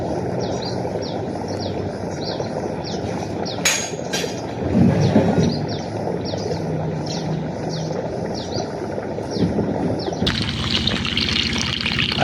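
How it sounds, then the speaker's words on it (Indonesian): Water gushes steadily from a newly drilled borehole well at an Islamic boarding school, a continuous loud rushing flow with birds chirping repeatedly in the background and a few sharp knocks partway through. "Air keluar bening, alhamdulillah."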